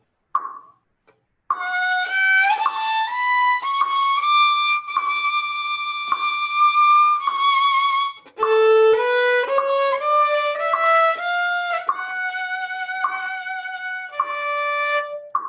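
Slow, unslurred opening eight measures of The Swan played by a school ensemble, a string of separate sustained notes with short breaks between them, steady and fairly loud after a brief pause at the start.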